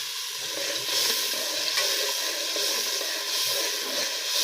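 Chili frying in hot oil for a Gujarati prawn curry (jinga titan) sizzles loud and close in a steady, dense hiss, broken only by faint stirring, with no voices over it.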